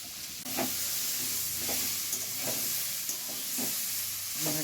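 Vegetables fry in a pan with chopped green chillies while being stirred, a steady sizzle with a few soft scraping strokes of the spoon at regular intervals, fairly close and alone.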